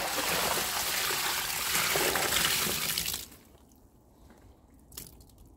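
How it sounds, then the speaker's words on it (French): Water thrown out across a garden, a loud broadband splash and rush lasting about three seconds, then quiet outdoor ambience with a faint brief trickle or drip afterward. "Allez, on va jeter l'eau."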